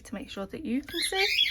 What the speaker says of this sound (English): Do apologise about the birds